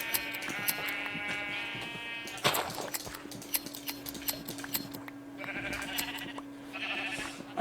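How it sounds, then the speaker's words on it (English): Sheep bleat in Minecraft, several short nasal cries coming in bursts across the stretch over a steady low game hum, with other faint game sounds between them. "here we got some sheeps."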